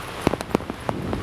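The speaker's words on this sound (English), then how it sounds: "It's raining. It was not supposed to do this." Rain falls outdoors on a rainy day, a brief burst of scattered drops and patters hitting a surface close by, with no voices.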